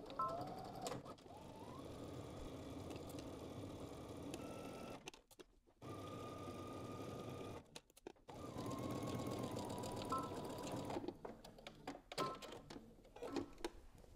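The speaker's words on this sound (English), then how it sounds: "I'm going to start stitching at the dot, working my way up using 5/8 of an inch seam allowance" A sewing machine runs in long, steady stretches while stitching a center back seam at 5/8-inch allowance, with two brief stops and lighter handling noise near the end.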